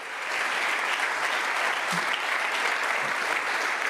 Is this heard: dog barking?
no